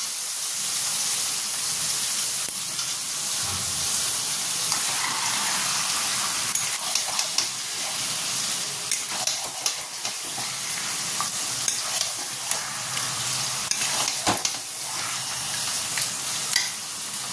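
Mutton pieces fry with tomatoes and salt in a pan, giving a steady close sizzle and hiss with scattered spatula scrapes and clicks throughout, no voices.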